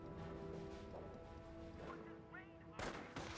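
Gunfire in a Company of Heroes World War II battle, US rifle squads against Panzer Elite; shots crack under a steady hum of game sound, with a sharper, louder burst of fire near the end.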